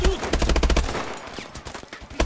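Rapid bursts of gunfire from the video game Call of Duty Advanced Warfare, loud, dense overlapping shots in quick rhythm throughout, with a voice briefly audible underneath.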